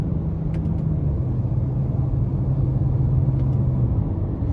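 A 2023 Nissan Rogue SL with a 1.5 turbo three-cylinder engine accelerating, a steady low rumble and hum from inside the cabin with a faint rising tone, continuous and loud.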